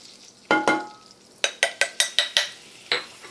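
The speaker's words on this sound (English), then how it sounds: "butter, flour, mix it together. We are making, again, what we call a roux." Butter and flour roux stirred in a pan for a French onion tart's béchamel base, heard as a string of sharp utensil scrapes and taps against the pan, two early and then a quick run of six, close and clear with no talk.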